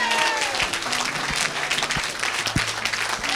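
A church congregation claps and cheers together, a dense, loud burst of applause filling the room throughout.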